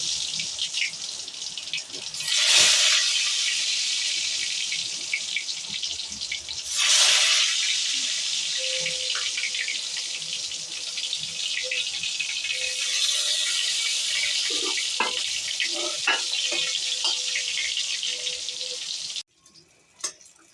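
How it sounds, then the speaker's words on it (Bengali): Eggplant slices dropped into hot oil and frying, a steady close hiss and sizzle with two louder bursts of spatter early on, running continuously until it cuts off near the end. "তেলটা গরম হয়ে গেছে, এবার আমি বেগুনটা তেলেতে ছাড়বো।"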